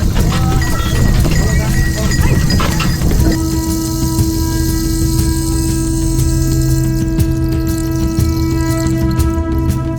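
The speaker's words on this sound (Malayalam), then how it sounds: "കാളവണ്ടിയിൽ ആദ്യമായിട്ടാണ് കയറുന്നത്" Hooves of a bullock pulling a cart clip-clop in a steady, loud rhythm on a ride near the Isha Yoga temple in Coimbatore, Tamil Nadu, with a continuous rolling rumble and voices talking over it.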